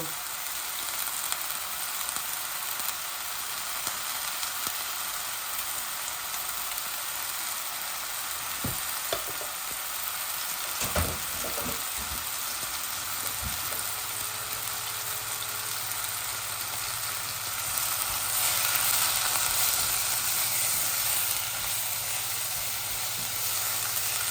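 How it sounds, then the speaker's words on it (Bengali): Minced meat sizzles and fries steadily in a pan, with occasional clicks and scrapes as it is stirred, plus a low background hum in the later part; no talking. "এই যে মিঠের কিমা দিয়ে দিলাম। একটু নাড়াচাড়া করে তারপর আমি কারি পাউডারগুলো দিব।"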